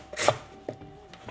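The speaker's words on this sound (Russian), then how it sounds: "А я пока вот так вот натру морковку." A carrot rubbed against a kitchen grater in a home kitchen, one loud rasping stroke followed by a few fainter scrapes, close and alone.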